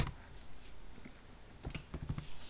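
Faint, scattered clicks of keys on a computer keyboard as someone types a sheet name into an Excel formula. A few quick taps cluster near the end over a quiet room background.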